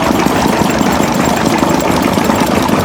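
A steady, loud, close mechanical drone of an old engine running among other vintage engines such as a diesel wick and a Bessemer, an unbroken dense rumble with no talk.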